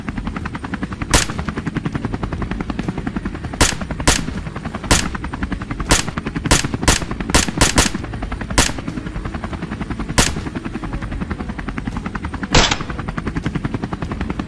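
Rapid rifle gunfire rings out during a boar hunt in a meadow: about a dozen sharp, loud shots in an irregular burst-like rhythm over a steady low rumble.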